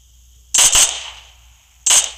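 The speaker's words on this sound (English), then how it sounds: "One more shot, he's dead." Two sharp, loud gunshots in the PUBG Mobile shooter game, spaced over a second apart, each a crisp crack with a short fading tail against near silence.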